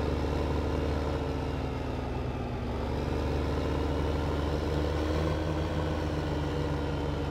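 A tractor in Farming Simulator 15 runs with a steady, loud droning engine hum that holds an even pitch throughout, with no voices over it.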